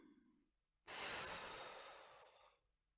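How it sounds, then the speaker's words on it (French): A single forceful exhale through the mouth bursts out close and breathy after a soft inhale, holding as a strong airy rush for about a second and a half before fading, during a relaxation breathing exercise. "Soufflez fortement par la bouche pour évacuer vos tensions."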